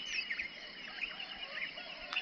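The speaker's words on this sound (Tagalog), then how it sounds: "Daming ibon dito, grabe." A dense chorus of many birds calling at dawn around a campsite in Bokod, Benguet, with overlapping chirps and honk-like calls at moderate distance, steady and continuous.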